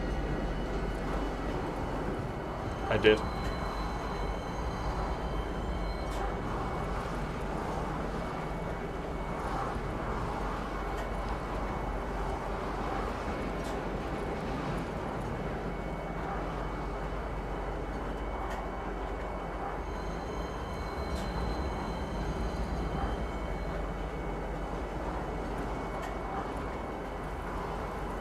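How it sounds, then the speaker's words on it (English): Train ride in the video game Star Citizen, a steady low rumble of rolling carriages with faint rattles and a brief clank near the start, and a short spoken remark. "Did I just jump on the wrong train?"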